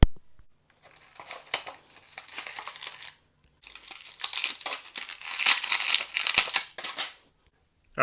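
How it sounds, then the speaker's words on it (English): Cardboard and plastic packaging on Hasbro Marvel Mech Strike action figures is ripped open close up, giving bursts of tearing, crinkling and crushing with short pauses between them. "Let's go ahead and rip them open."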